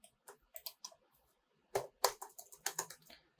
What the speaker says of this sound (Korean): 컨트롤 G 눌러서 가이드라인 지우고